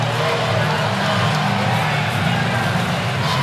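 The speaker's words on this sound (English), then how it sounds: "it's a good crowd at Purcell Pavilion" A crowd roars steadily at Purcell Pavilion during a Virginia vs. Notre Dame men's college basketball game, a dense, loud arena din with broad cheering throughout.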